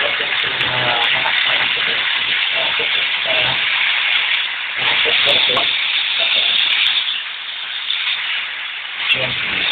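Chicken and beef adobo frying in a pan, a loud, dense, steady sizzle that fills the whole stretch with slight swells and dips, while a voice talks faintly underneath.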